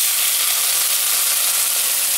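Bell pepper sizzling as it fries in a pan, a steady, fairly loud hiss of crackling oil that continues evenly throughout with no voices.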